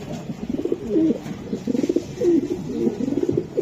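Young racing pigeons coo close by, giving a run of soft, repeated throaty calls over a low, steady background.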